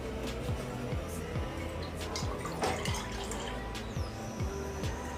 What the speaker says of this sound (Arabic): ودابا غادي ندير الحليب